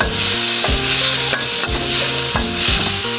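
Pork belly stir-frying in a hot pan (wok), a loud steady sizzle broken by repeated scraping and stirring strokes of a spatula, close up with no voices.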